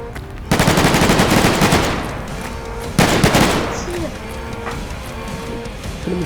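Gunfire in the game Garry's Mod on an SCP roleplay server: two loud bursts of rapid automatic fire, the first lasting about two seconds and the second shorter, over a steady background hum.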